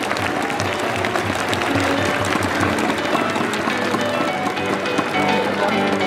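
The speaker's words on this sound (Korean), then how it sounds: "이럴 때 따뜻한 박수 한번 보내주시면 고맙겠습니다" An audience at a welcome ceremony for KIA Tigers rookies gives warm, dense applause, a steady crackling wash of many hands clapping throughout, with voices faintly mixed in.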